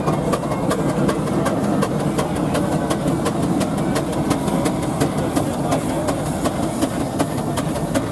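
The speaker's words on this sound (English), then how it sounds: "Another little Garrett tractor now" A small Garrett steam traction engine running at a vintage country show, giving a steady, loud rhythmic chuffing beat over a constant mechanical rumble.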